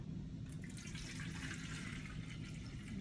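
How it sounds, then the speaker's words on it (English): Water pours steadily into empty hydroponics bowls, a continuous close splashing rush with no pauses and no voices. "I'm going to add water in all these bowls today."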